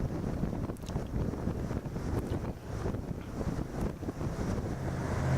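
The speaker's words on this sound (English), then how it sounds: "Pretty soon we're going to be turning left, hard left, and maybe the wind will decrease a little bit." Wind buffets the microphone while boating, a loud rumbling gusty roar that rises and falls continuously, with faint water and hull noise beneath.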